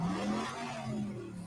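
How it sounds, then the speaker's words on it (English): A car engine in the film Death Proof revs hard in a brief continuous roar with a rising, wavering tone, moderately loud and with no voices. "he just listen to that fucking engine though"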